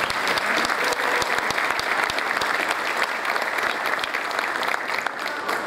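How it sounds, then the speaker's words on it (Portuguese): Steady, loud applause from a large crowd at an outdoor ceremony handing police vehicles over to municipalities, sustained and dense for the whole stretch with no voices on top. "Uma grande salva de palmas."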